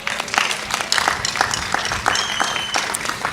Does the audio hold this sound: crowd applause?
yes